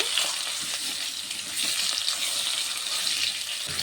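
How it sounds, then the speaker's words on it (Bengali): Potatoes frying in hot oil with nigella seeds, a dense, steady sizzling hiss with slight fluctuations, close and fairly loud, with no one speaking. "ফোড়ন দিয়ে দেবো আলু আলুটিকে একটু ভেজে নেব"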